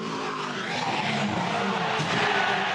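Loud, continuous roar of a race car during an on-track crash, with broadband engine and tyre noise sustained throughout and a skidding, scraping quality at close range.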